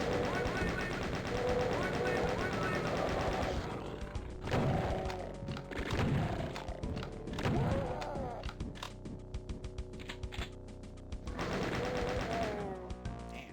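Rapid gunfire from a shooter game played in Boom on map31, with repeated quick shots and thuds layered over dense, busy game sound.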